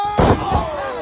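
Body slam impact in a wrestling video game, two heavy thuds about a third of a second apart, loud and close over a background music bed.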